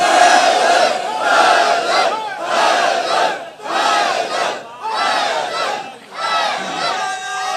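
A crowd at a Shia majlis gathering in Azad Kashmir chants the slogan "Haidari" in loud, repeated unison bursts of about a second each, separated by brief gaps, seven or so rounds.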